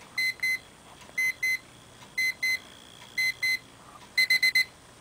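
Electronic beeping from a LEGO Star Wars alarm clock repeats in steady pairs, then switches to a faster burst of four beeps, each group a little more insistent, close and alone.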